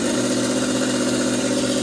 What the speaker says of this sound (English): that definitely has a monster truck sound to it